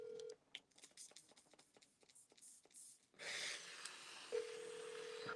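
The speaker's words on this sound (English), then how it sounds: "maybe I'll call him from the other phone" Push-button keypad tones as a telephone number is dialed, a run of short beeps starting and stopping in quick succession, then a steady tone with background rustle at the end.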